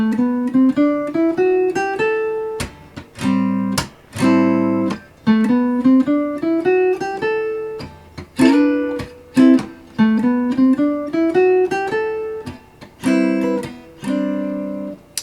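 Jazz guitar comping in a ii-V-I rhythm with a swung eighth-note feel, short chord stabs alternating with sustained chords in a steady four-count pulse, played close and clear with no talking.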